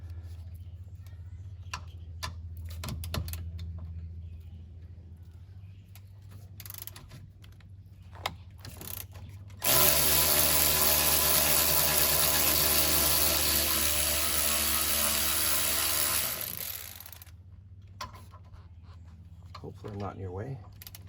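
Rear brake caliper bolts on a 2013–2016 Ford Escape being loosened with a 7 mm Allen hex socket: a loud, steady mechanical whirring burst of about seven seconds, framed by quieter scattered clicks and a low hum.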